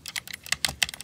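Buttons on a Razer Wolverine Ultimate game controller get pressed in quick succession, a scattering of sharp, crisp clicks heard close and alone.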